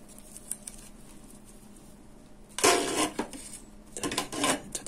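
Close rustling and crinkling of a mesh being handled and unrolled for repairing a telescopic carbon fishing rod, with two loud bursts of crackly handling noise after a quieter stretch.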